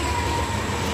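A long freight train carrying semi-trailer truck containers on its cars rolls past nearby, making a loud, steady rushing rumble with a faint high whine and no voices.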